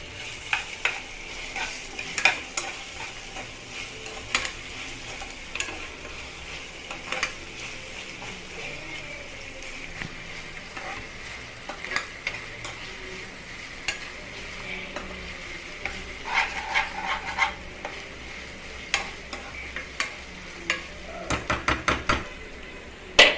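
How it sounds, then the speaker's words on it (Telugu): Onions and ginger paste fry in a pan for chicken curry, giving a continuous soft sizzle broken by frequent spoon clicks and scraping stirs against the metal, growing busier near the end. "ఉల్లిపాయల్లోనే అల్లం పేస్ట్ కూడా బాగా వేగాలి."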